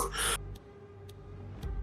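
A player draws one deep, audible breath, close and breathy, in an improvised one-shot horror tabletop scenario. Faint clicks follow in the quiet afterward.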